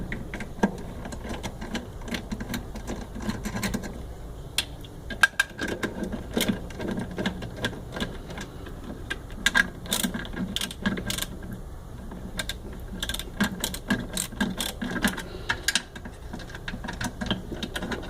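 Washing machine actuator screws being worked loose with a tool give off scattered small clicks and ratcheting taps at close range, irregular and fairly quiet against a steady room background.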